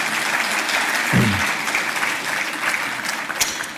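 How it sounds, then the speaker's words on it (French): A large audience claps continuously at a conference closing plenary session, a dense, even wash of applause with a brief low thump partway through and no talk. "elle a été précieuse, on peut l'applaudir très fort"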